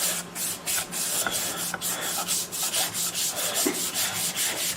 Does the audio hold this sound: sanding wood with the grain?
yes